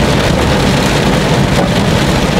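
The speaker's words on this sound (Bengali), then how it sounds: "আনএক্সপেক্টেড বৃষ্টি।" Heavy rain drums loudly and steadily on a car while driving through Dhaka city streets, a dense, unbroken patter with no voices.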